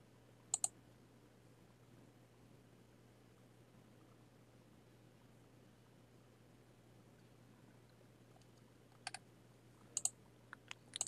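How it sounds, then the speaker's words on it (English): A computer mouse clicks a few times while working in Silhouette Studio, with sparse, sharp, close clicks over a steady low hum and long quiet stretches between them. "you're just going to click on OK."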